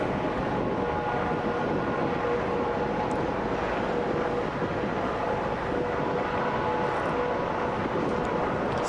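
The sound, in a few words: police helicopter flying overhead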